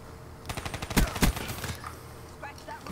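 Rapid automatic gunfire in a Black Ops 3 gun game match: a quick rattling burst with two loud heavy shots in the middle, then quieter scattered game effects and a faint voice.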